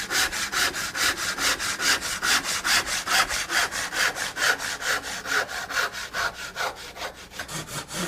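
A hand saw cuts a wooden tenon in half, with close, loud back-and-forth rasping strokes in a steady, even rhythm of about four strokes per second.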